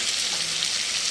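Tomatoes sizzling as they go into a frying spice paste, with a steady, even hiss and crackle that stays close and moderately loud for the whole brief moment, and no talk over it.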